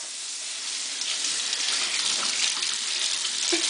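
Water runs steadily from a faucet, a continuous rushing hiss at close range with no voices.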